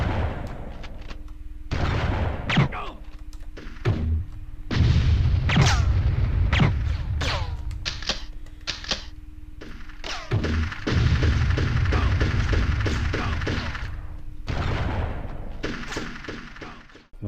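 Gunfire and booming blasts in the video game Army Men: Sarge's Heroes, including shotgun shots, repeated heavy reports in clustered bursts with short gaps, loud and close throughout.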